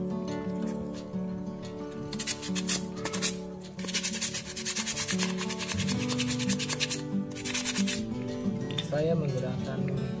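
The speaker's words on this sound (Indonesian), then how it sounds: "Dengan amplas, haluskan ki pakai amplas." Sandpaper rubs a homemade slingshot smooth in a series of quick, scratchy back-and-forth strokes. A person talks over the rasping, and a tonal background runs through it.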